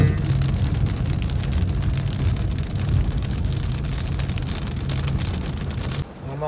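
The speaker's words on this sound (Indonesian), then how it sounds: "Nah, kondisi hujan soalnya." Rain falls steadily on a car during a ride-hailing drive, a loud, even hiss and patter over a low engine and road rumble that fades near the end.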